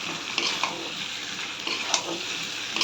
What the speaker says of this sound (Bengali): এখন একদম ভালোভাবে একদম কষিয়ে নিতে হবে লোটে মাছটাকে